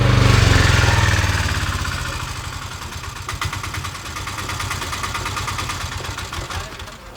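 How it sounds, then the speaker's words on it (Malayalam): An auto rickshaw engine idles close by in a Malayalam film scene, a loud, steady, rapid chugging that starts strong and settles to an even putter, with no talking. "ഓട്ടോറിക്ഷയുടെ ശബ്ദം കേട്ടപ്പോൾ എനിക്ക് കയറി വിളിച്ചതാ."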